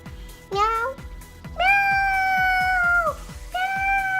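A human voice imitates a cat with drawn-out meows, one short and one long with a shorter one after, loud and close over a steady rhythmic clicking from a Fisher Price Animal Rescue toy.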